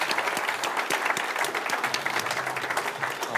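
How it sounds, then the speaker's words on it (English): A crowd at a business event claps to welcome a motivational speaker onstage, dense, even applause close and fairly loud, sustained throughout without talk over it. "give him a round of applause for Brad Burton."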